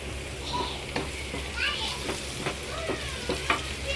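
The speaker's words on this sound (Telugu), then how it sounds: "ఇవి కూడా వేసి కాసేపు దోరగా వేయించుకుందామండి" Cloves, cinnamon, marathi moggu and bay leaves frying in oil in a pan, a soft steady sizzle with a few clinks of stirring, while faint voices carry on in the background.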